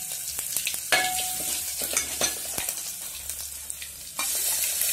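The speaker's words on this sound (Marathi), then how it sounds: "तर तेल तापून झालेलं आहे, आता आपण यामध्ये मोहरी प्रथम टाकणार आहोत" Mustard seeds crackle and sizzle in hot oil, with sharp pops and spits over a continuous frying hiss, growing louder and denser toward the end.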